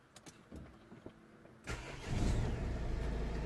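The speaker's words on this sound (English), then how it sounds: "So let's gonna start the engine actually to see if this is okay." A Nissan X-Trail engine is cranked by the starter and fires up, with a few clicks and thumps before the engine catches loudly and settles into a steady, close rumble.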